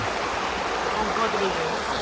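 Floodwater rushing across a rural road near a village in Buriram, Thailand, a steady loud roar of flowing water with no pause.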